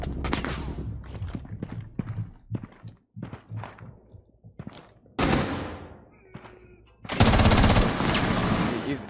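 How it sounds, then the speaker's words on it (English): Rainbow Six Siege gunfire starts as scattered single shots and short bursts, then gives way to two long, loud sustained automatic volleys, with players talking between the shots. "I was shooting left"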